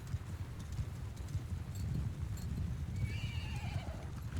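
Horses gallop in a Mount and Blade II Bannerlord battle, a steady rumbling clatter of many hooves with a brief whinny near the end, continuous and fairly close.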